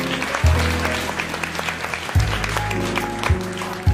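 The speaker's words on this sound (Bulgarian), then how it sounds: "Благодаря ви, че сте тук, уважаеми дами и господа, аплодисменти" Audience applause at a Bulgarian business lady of the year 2014 gala, a broad wash of clapping under loud, booming event music with heavy bass hits.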